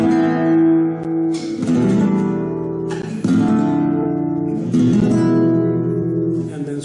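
Flamenco guitar strums a chord progression substituting chords in the Andalusian cadence, with three loud rasgueado-style strums, each left ringing, close and with no talking.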